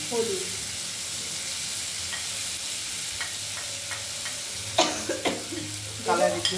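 Raw tomato and mustard paste frying in a pan as turmeric is added: a steady, close sizzle runs throughout, with occasional clicks and scrapes of stirring toward the end.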